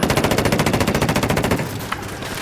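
Rapid automatic gunfire from a weapon in the video game Ghost Recon Wildlands, a fast even burst of shots lasting about a second and a half before cutting off, followed by quieter game ambience and a single sharp report.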